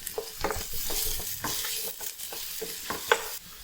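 Shallots with salt sauté in a pan for a beef ularthiyathu, a soft sizzle broken by rhythmic scrapes and stirs of a spoon against the pan, close and moderately quiet with no talk.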